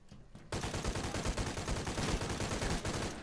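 Gunfire in the action video game Shadow of the Tomb Raider erupts after a brief quiet moment into a dense, loud barrage of rapid, overlapping shots that continues to the end.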